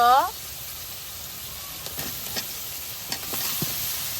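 Masala being fried and stirred in a pan before meat goes in, a steady low sizzle with occasional scraping stirs and clicks, fairly quiet, with a brief voice at the start.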